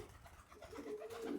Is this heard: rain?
no